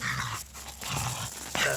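A young, cold-adapted dog in subzero weather makes agitated, excited noises close by, with growls and whimpering sounds over a steady windy background.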